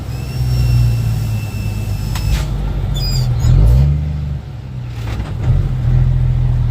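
A dump truck hauling dirt revs hard under load, its loud engine drone dipping through a rough gear shift midway before pulling again; no voices over it.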